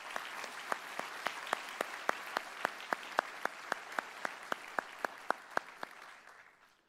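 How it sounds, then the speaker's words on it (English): Applause from the audience at a Brevard County Sheriff's Office awards ceremony, heard as faint, evenly spaced claps in a steady rhythm that carry on for several seconds before trailing off. "let's recognize him with a round of applause"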